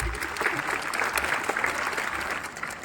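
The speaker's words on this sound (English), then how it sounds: "They can clap for that." An audience claps steadily at a school academic achievers' awards ceremony, a dense, even wash of applause lasting a few seconds with no talk over it.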